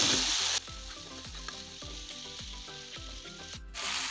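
Onion and tomato sauté in a pan for a prawn gravy, sizzling steadily up close while a spatula stirs and scrapes in a quick regular rhythm, about two strokes a second.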